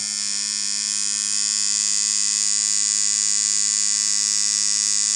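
A Sidewinder V3R tattoo machine fitted with rubber bands runs continuously, giving a steady high-pitched electric buzz with a constant hum beneath it. It is close and loud, with no talk.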